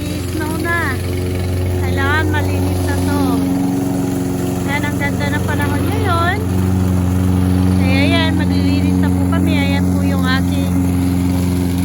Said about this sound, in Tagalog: Nagmumower po siya.